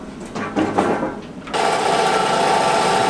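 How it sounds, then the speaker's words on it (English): A bandsaw cuts in a garage workshop, first with some scraping and clattering, then a sudden shift into a steady, loud, high whine as the blade bites, close by and alone. "So we're gonna find out how good this bandsaw is."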